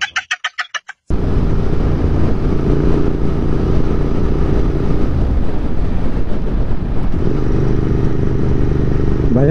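A Royal Enfield Continental GT 650 on the move with an aftermarket exhaust, a loud continuous engine drone and rumble at close range that stays steady and shifts pitch slightly midway, after a brief chopped burst at the start.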